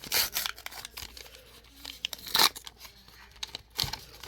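Foil and paper of a 1991 baseball card wax pack being torn open by hand, a string of sharp crinkly rips and rustles close up, in irregular bursts with no one talking.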